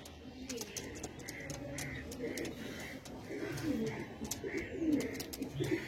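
Kalsera pigeons of an old-line breed coo repeatedly at close range, soft throaty calls rolling one after another in a steady rhythm over faint background noise.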